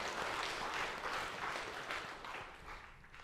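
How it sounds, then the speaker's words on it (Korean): Church congregation at a Sunday morning service applauds in praise to God, a continuous, fairly soft roll of many hands clapping that tapers slightly toward the end. "우리의 유일한 인도자 되시는 하나님께 영광의 박수 올려드리십시다."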